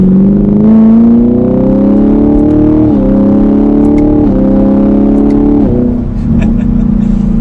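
A 2021 Chevrolet Camaro 2SS V8 climbs loudly through the gears under acceleration, its engine note rising in steps and dropping briefly at each quick paddle shift.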